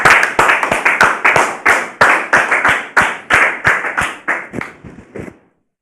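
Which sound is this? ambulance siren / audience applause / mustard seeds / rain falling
audience applause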